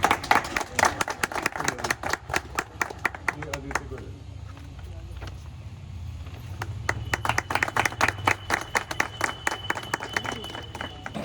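Audience at a blood donation camp held for the army claps in dense, rapid bursts, a crowd applauding loudly with a brief lull in the middle before the clapping swells again, with a voice talking over it.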